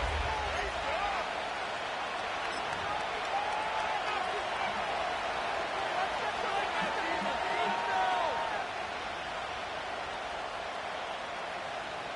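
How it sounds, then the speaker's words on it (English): A football stadium crowd roars and cheers ahead of a third-down play, a dense, sustained wash of noise under a commentator's voice, swelling slightly midway and then easing. "This crowd into it now as we get to 3rd down."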